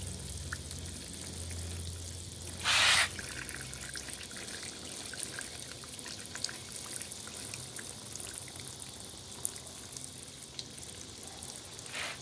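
Tap water pours steadily from a watering can onto potted red mangrove plants, a soft continuous trickle and splash with one brief louder gush near the start.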